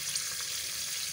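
Garlic ginger paste and butter frying in ghee for chicken chana, a steady, close, even sizzle with no pauses across the short stretch.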